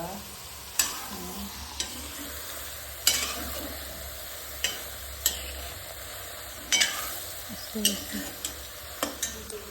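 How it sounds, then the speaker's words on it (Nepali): Onions frying in a pan for achar at a family gathering, a soft continuous sizzle broken by repeated sharp spoon scrapes and clinks against the pan every second or so. "यसो रातो रातो गरेर भुट्ने साथीहरू"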